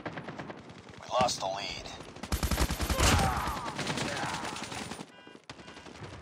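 Rapid automatic gunfire in a Call of Duty team deathmatch, loud staccato bursts of shots rattling through the middle, mixed with game announcer voice lines and effects.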